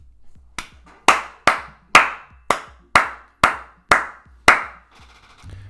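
Eight crisp single hand claps ring out one after another at a steady, even pace in a quiet indoor room, each loud and close with a short decaying tail, and no talking.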